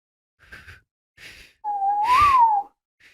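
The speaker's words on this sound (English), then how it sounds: "I can inhale and exhale whistle." Breathy whistling: two short airy breaths, then a sustained wavering whistled tone for about a second, close and fairly loud.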